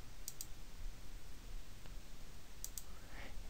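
Two quick pairs of computer mouse clicks, crisp and close, over a faint background hiss, while working in the Copper Cube 4 game editor.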